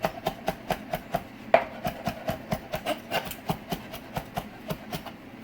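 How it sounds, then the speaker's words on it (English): A knife chops fresh herbs for chicken noodle soup on a board, about twenty crisp, evenly spaced strikes close by in a steady rhythm, with one sharper knock partway through. "I like to chop it up a little smaller."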